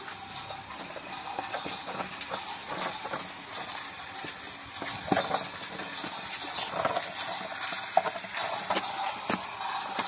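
A toy helicopter runs with an irregular clattering and whirring, giving off a stream of light clicks and rattles at moderate volume close by.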